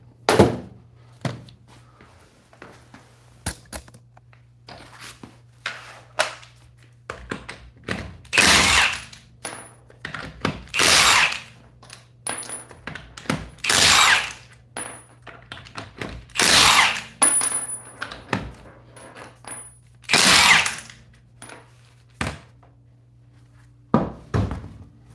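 Irregular metallic clunks, bangs and ratcheting bursts come from work removing a wheel from a Volvo V70 during a CV axle swap, loud and close with quiet gaps between, over a low steady hum.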